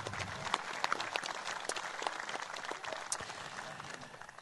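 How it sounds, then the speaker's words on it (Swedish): A concert audience at a memorial show claps in a broad, even round of applause, with a few sharper individual claps standing out near the front. "de får en applåd i alla fall"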